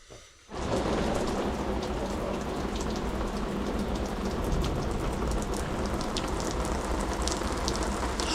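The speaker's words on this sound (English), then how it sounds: "Starting to get some rain." Steady rain pours down during a San Antonio thunderstorm, a dense, even hiss of drops striking surfaces that begins abruptly and continues without a break, heard close by and alone with no talking.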